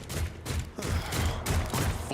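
Rapid bursts of video game gunfire, dense rattling volleys repeating in quick clusters with brief gaps between them, fairly close and loud.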